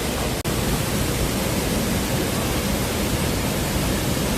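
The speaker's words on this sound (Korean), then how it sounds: "이곳이 오늘 마지막 목적지 천문폭포입니다. 정말 웅장하고 멋지네요." Cheonmun waterfall near Seoul roars as a dense, steady rush of falling water, loud and unbroken from start to finish, with no voices heard.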